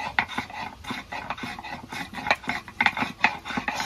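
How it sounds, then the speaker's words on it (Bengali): Whole garam masala spices ground by hand, giving steady rhythmic scraping and rubbing strokes with gritty crunches and occasional sharp clicks, close and continuous without talk. "গোটা গরম মশলা আছে, তো এটাকে এখন আমাকে বাটতে হবে"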